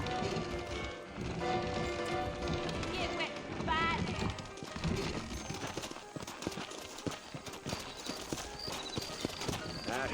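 Horse hooves clip-clop steadily at a walking pace amid Red Dead Redemption game music and ambience, with a voice speaking over them.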